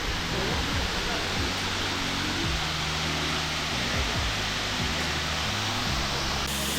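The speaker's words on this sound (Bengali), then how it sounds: "অনেকটা ওপর থেকে পড়ছে জলটা।" Jhinkira waterfall in the Saranda forest of Jharkhand pours from a height with a steady, dense, roaring rush, while someone talks over the constant water noise.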